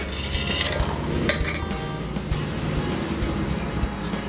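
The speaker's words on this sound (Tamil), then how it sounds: "இப்போ மிக்ஸி ஜாரில் சேர்த்துக்கலாம்." About fifteen small shallots and six garlic cloves go into a kitchen mixer jar. Light clinks and knocks tumble against the metal, close up, over a quiet room.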